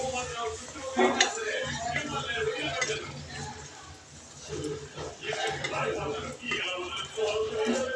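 Liver curry with ginger and turmeric stirred in a pot, with clinks and scrapes of a spoon against metal running under steady talking.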